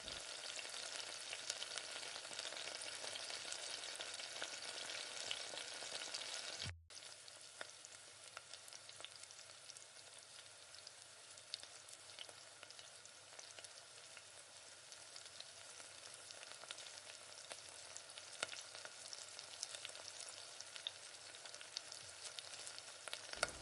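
Chopped tomatoes with a little salt sauté steadily in a pan for a Tamil chicken curry gravy, a soft, continuous hiss and sizzle with a brief break partway through, close and quiet with no talking.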